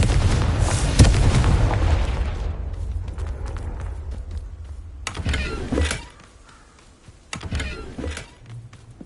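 A Confringo blasting spell goes off in the Hogwarts Legacy video game with a loud, deep explosive boom that rumbles and fades. Further sharp bursts and impacts follow as the game's action continues.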